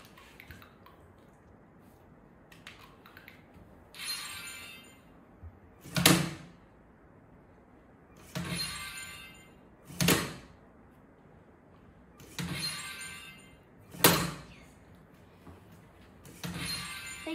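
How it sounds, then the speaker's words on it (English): A LEGO Mindstorms robot in a slap-on-hand game plays an explosion sound effect at the start of each round, heard as loud noisy crashing bursts repeating roughly every two seconds in a loop, with quieter hissing bursts between them. "Then this explosion sound is actually the sound you hear when it starts."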